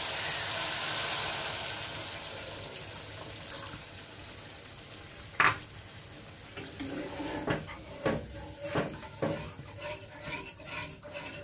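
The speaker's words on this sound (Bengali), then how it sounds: "ভালো করে কষানো হয়ে গেছে, এখন দিয়ে দিচ্ছি নারিকেলের দুধ" Coconut milk goes into a pan of prawn malai curry, followed by a soft simmering hiss and a close spoon scraping and clinking against the pan as it is stirred, with no talking.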